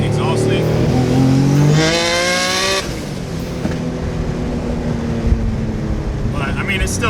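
A turbocharged 700 hp Nissan G35 revs hard, its engine note climbing steeply and then dropping into a loud, throaty rumble, with someone talking over the engine.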